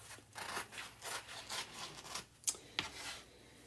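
Scissors trimming a Chalk Couture transfer sheet, a run of soft rhythmic rasping snips close up and quiet, with two brighter clicks near the end and no talking.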